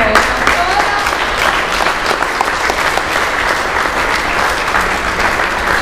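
Audience applause at an outdoor accordion music event, sustained loud clapping from a sizeable crowd, steady and close throughout.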